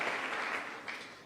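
A church congregation gives a short burst of applause, moderately quiet and fading over about a second.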